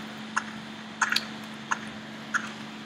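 A game character swimming in swamp water in Swamp Simulator, with soft wet splashes and squishy strokes arriving in a few spaced bursts over a steady low background hum.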